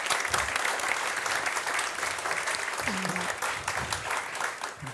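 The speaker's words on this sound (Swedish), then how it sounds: "vi ger panelen en fantastisk varm applåd" An audience gives a warm round of applause to a panel at a Swedish IT-municipality event. The clapping is dense and sustained, with a brief voice breaking through midway.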